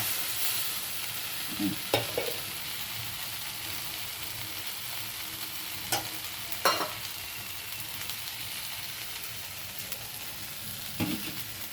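Ghugni spice paste sautéing in oil over a medium flame, a steady close sizzle with a few sharper clinks and scrapes of stirring at intervals.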